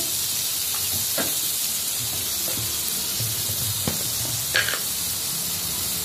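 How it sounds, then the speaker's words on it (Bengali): Green chillies fry in hot oil with salt in a pan, a steady close sizzle and hiss with occasional faint clinks and stirring sounds. "হলুদ, আর লঙ্কার গুঁড়ো দেবো পরে, এখন না, একটু ভেজে নিই।"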